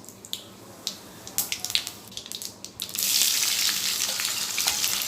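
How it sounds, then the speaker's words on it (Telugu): Tempering seeds crackle and pop in hot oil used for frying bitter gourd, with scattered sharp pops at first that give way to a loud, steady sizzle, heard close up with no talking. "అదే నూనెలో పోపు గింజలు వేసుకొని"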